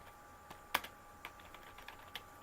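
Quiet, irregular clicking of keys on a computer keyboard while entering text in Microsoft Word, with one sharper keystroke near the start and a scattering of lighter taps.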